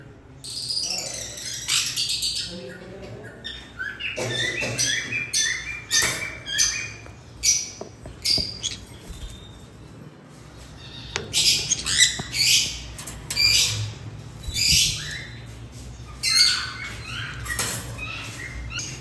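Pineapple conure parrots, a breeder pair split to blue turquoise, give repeated harsh squawks and chirps in bursts throughout, with shuffling and flapping around a cage, and no talking.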